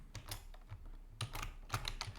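Quiet, irregular clatter of keys on a computer keyboard while Python code is typed into an editor, a run of light taps with small pauses, close by and alone.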